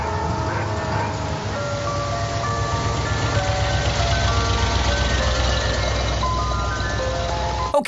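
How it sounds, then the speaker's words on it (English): An ice cream truck plays its tinkling jingle at night, the melody looping steadily over a low rumbling engine and background hum throughout. "why is there an ice cream truck in the middle of the night?"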